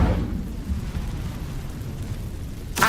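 The Incendio fire spell in Hogwarts Legacy, a loud continuous roaring whoosh of flame that holds steady, then a sharp burst right at the end.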